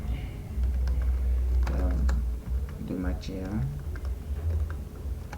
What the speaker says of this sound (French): En touchant les touches du clavier, on écrit directement.